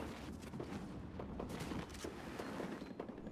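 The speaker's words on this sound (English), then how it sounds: "Shots to the right." Rapid bursts of gunfire in the Fortnite battle royale game, a rattling volley of repeated shots at moderate distance, continuous throughout with brief louder cracks.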